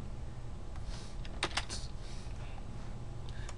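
A few computer keyboard keys pressed in quick succession for an Excel shortcut, sharp close clicks bunched near the middle over a steady low room hum.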